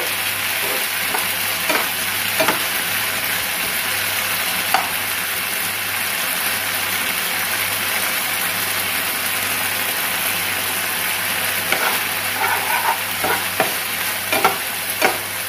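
Lemon garlic chicken fries in soy, hot and sweet, chilli and Schezwan sauces with vinegar over a high gas flame, a loud continuous sizzle with scattered scrapes and clinks of a spatula stirring the pan.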